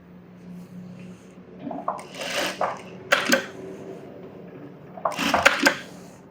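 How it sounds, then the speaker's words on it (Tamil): A sewing machine makes a few short bursts of light tacking along a blouse seam, each quick whir separated by pauses, close and fairly clear against a quiet room. "நான் சும்மா லைட்டாக டாக் அடிக்கிறேன்."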